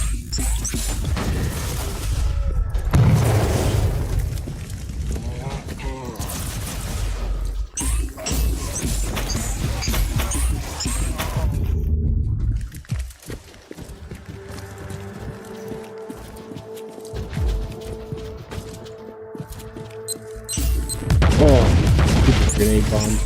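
Grenades go off in a Warhammer 40k video game amid clattering combat effects, with heavy booms and crashes that peak near the end among game voices and music.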